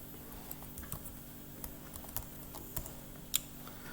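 Quiet, sparse keystrokes on a computer keyboard tap out a few irregular clicks over low background hum, with no talk.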